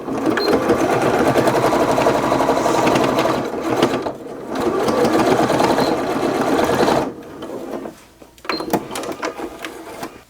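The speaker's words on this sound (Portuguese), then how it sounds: "E vou passar uma costura com a mesma margem que a gente usou anterior ou mais." Sewing machine running steadily as it stitches a seam through fabric for a boxy toiletry bag, with two long continuous runs broken by a brief pause and then short stop-start bursts at the end.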